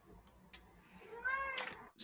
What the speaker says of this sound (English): there were some baby noises in the background. It's actually my cat.